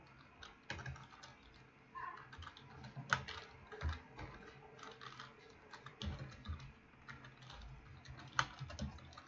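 Quiet, steady typing on a computer keyboard while writing a Python program, with irregular bursts of key clicks and occasional heavier keystrokes, close-miked and without talk.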